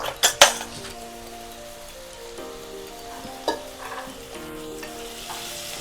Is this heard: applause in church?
no